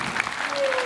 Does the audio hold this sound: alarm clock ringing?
no